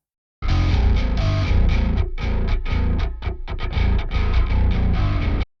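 Heavily distorted bass guitar plays a dense, loud riff for about five seconds with rhythmic chugging and short stops, mixed for a djent track, and no voices.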